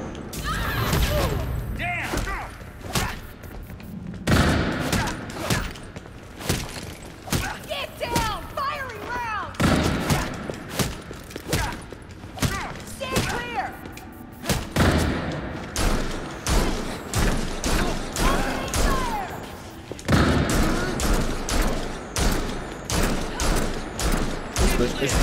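Gunfire in Gotham Knights, dense volleys of loud shots and heavy thumps in rapid, repeated bursts through the whole stretch, with occasional voices under the action.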